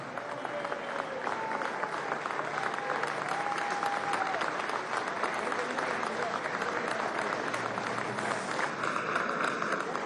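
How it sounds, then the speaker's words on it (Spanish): A large crowd at a Venezuelan state ceremony applauds a theatre group in sustained, dense clapping for about ten seconds, with voices heard faintly in the mix. "Fuertes esos aplausos para el Teatro Internacional Simón Bolívar."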